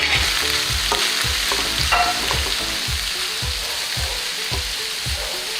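Fenugreek leaves hiss and sizzle in a hot pan over a fried green chilli paste, with a steady rhythm of stirring scrapes and spatula knocks and no talking.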